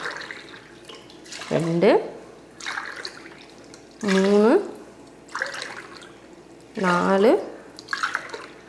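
Water is poured in three separate glassfuls into a pressure cooker holding rice and lentils, each pour a short gurgling fill that rises in pitch, with a voice speaking between the pours.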